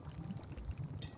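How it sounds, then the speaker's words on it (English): Water pours steadily into a tea infuser in the video game Wanderstop, a soft continuous trickling stream heard up close for a brief moment. "And just like that, the water scurries over to the infuser"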